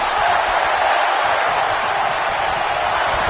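A packed arena crowd in the wrestling video game WWE 2K19 gives off a steady, dense roar that stays loud and even throughout, with no distinct voices standing out.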